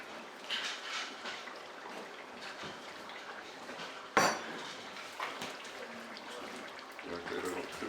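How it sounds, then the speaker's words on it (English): A lid drops onto a pot of chicken and onions with one sharp clank midway, amid soft kitchen clatter and faint water sounds, close and fairly quiet otherwise. "I'm gonna put the top on top of it."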